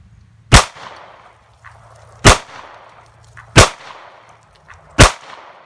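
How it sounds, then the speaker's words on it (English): Four loud, sharp pistol shots from a Sig Sauer SP2022 firing 115 grain Blazer brass ammunition at a target 15 feet away, spaced irregularly about a second or more apart, each with a short trailing echo and no talking. "we're going to be shooting at using 115 grain Blazer brass for 5 rounds from 15 feet"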